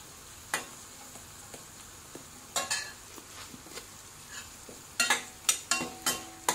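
Golden-brown onion fries in a pan with a pinch of turmeric and asafoetida, a soft steady sizzle broken by sharp scrapes and clinks of a spoon stirring against the pan, coming in clusters toward the end, with no talking.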